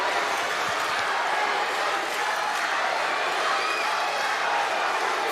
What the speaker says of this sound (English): The crowd are going absolutely spare. It's deafening in here.